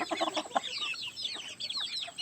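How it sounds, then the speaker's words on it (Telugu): Several native country chickens cluck and squawk in quick, overlapping bursts, close by and fairly loud, with no talking. "మొత్తం ప్యూర్ నాటుకోళ్ళు"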